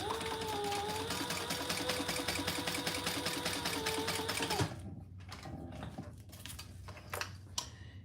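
A sewing machine stitches under leather card slots in a steady, fast run of needle strokes for several seconds, then stops, leaving scattered clicks and handling taps nearby.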